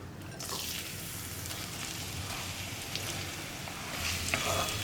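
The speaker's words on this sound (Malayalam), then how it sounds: "ഇനി ഇതേ എണ്ണയിലേക്ക് തന്നെ നമുക്ക് നമ്മൾ മുറിച്ച് വെച്ചിരിക്കുന്ന സവോള ചേർക്കാം" Sliced onions for an egg curry fry in hot oil in a pan, giving a soft, steady sizzle with light crackle that swells a little near the end, with no talking.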